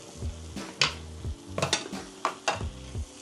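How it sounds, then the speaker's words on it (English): Thai green curry with beef and palm sugar being stirred in a pan, an irregular series of scraping and clinking utensil strokes over a soft sizzle, close and moderately loud. "Mix with green curry paste."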